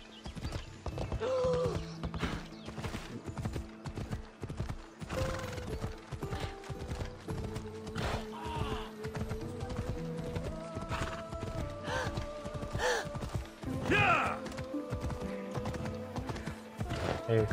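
Rapid hoofbeats of a galloping horse in Assassin's Creed Odyssey run continuously, with a few neighs and mechanical clicks mixed in amid a busy game soundtrack.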